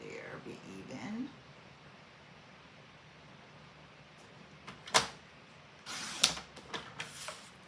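A paper trimmer slicing scrapbook paper during a card-stock cutting session, heard as a few sharp, close clicking and ratcheting cuts near the end after a stretch of quiet room noise.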